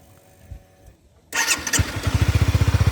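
A 2011 Honda CBR250R motorcycle engine cranks briefly and catches, then settles into a rapid, steady idle putter, close and fairly loud.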